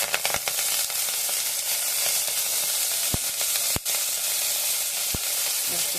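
Green chilies drop into hot oil already holding cumin seeds for a spring onion sabzi, setting off a loud, dense hiss close by, broken by crisp pops and crackles.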